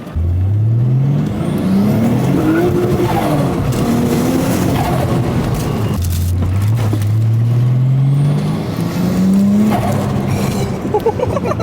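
Modified Nissan R34 Skyline engine revving hard through rising gears, loud and close, with a strained rasp and brief tire squeal as it accelerates, a pause, then another long climbing pull.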